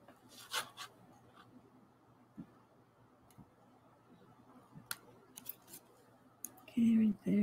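Scissors trimming paper for an art journal page, a few quiet snips and paper rustles close by in a hushed room, followed by a brief louder sound at the end.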